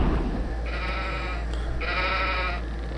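Sheep bleating in the video game Hexen II, two drawn-out wavering bleats in a row over a steady low game hum, with no talk.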